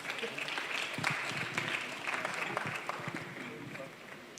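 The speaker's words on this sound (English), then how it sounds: "Please give him a round of applause." Steady applause from a university lecture audience, dense continuous clapping that holds at an even level throughout with some voices mixed in.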